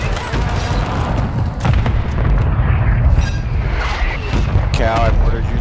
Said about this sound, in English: I mortared you, so I shouldn't hear you.